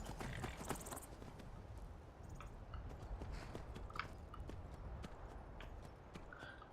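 Hooves of the horse Shadowmere in the video game Skyrim, a steady clip-clop of walking steps over a low, constant ambient bed, fairly faint, with no speech.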